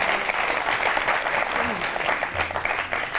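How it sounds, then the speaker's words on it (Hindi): Loud, dense applause from a gathered audience cheering on a disabled man, a continuous close roar of clapping with voices mixed underneath. "जोरदार तालियां हो"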